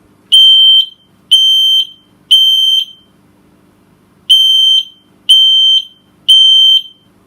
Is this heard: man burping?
no